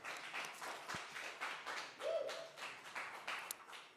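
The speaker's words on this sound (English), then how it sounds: "big applause to you for winning this Audience Awards" Scattered applause at an online awards finale, honoring an Audience Award winner, with quiet, slightly distant claps rising and falling over about four seconds.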